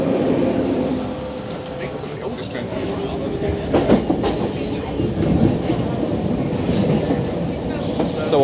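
A Paris commuter train rumbles along toward Gare du Nord with rhythmic clicking of wheels on rails and faint squeals, while people talk over the steady interior noise.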